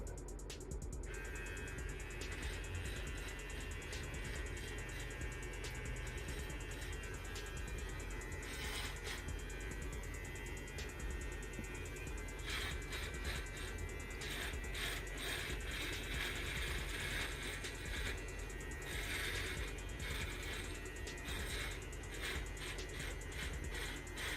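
A BILTRTE dual-head ceramic body hair trimmer shaves facial hair without a guard, giving a close, continuous mechanical buzz with rattling, gear-like texture that stays steady throughout.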